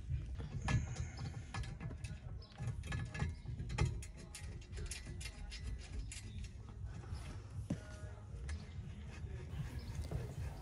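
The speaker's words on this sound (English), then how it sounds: "So here I was loosening the mounting bracket to reach the passenger seat brackets." A wrench loosens the bolts on a car seat's mounting bracket. Faint ratcheting clicks and metallic taps recur irregularly over a low, steady background.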